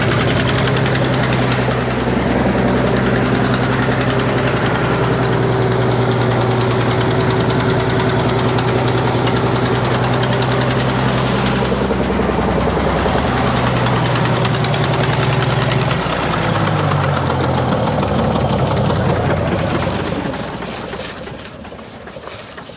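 A small piston aircraft engine, fuel and magneto on, runs loud and close with a rough, pulsing drone that holds steady for about twenty seconds before winding down and stopping.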